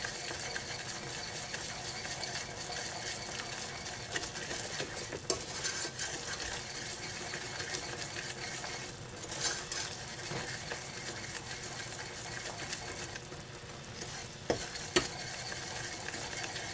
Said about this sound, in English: Cook some caramel with apple flavoring.